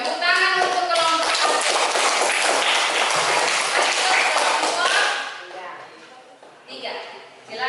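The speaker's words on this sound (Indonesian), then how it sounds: "Tepuk tangan untuk kelompok" Classroom applause for a student group, with loud, brisk clapping that mixes with children's voices and fades after about five seconds before a teacher speaks.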